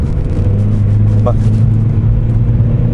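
Volkswagen Polo 1.4 85 PS engine droning at high RPM from inside the car, a loud steady low rumble throughout, with someone briefly speaking over it.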